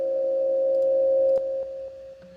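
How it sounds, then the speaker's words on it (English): A sustained electronic tone through Ableton's Echo effect repeats, feeding back into reverb, the wash dropping away in distinct steps as it fades. "We can hear now the reverb is also feeding back."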